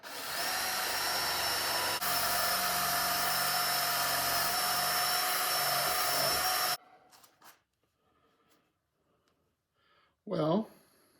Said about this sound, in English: Time to get the polisher out.